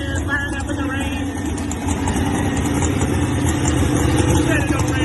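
A truck-pulling engine at a California tractor and truck pulling event runs in the rain, a loud, steady, deep idle rumble close by that holds evenly throughout, with voices faintly in the background.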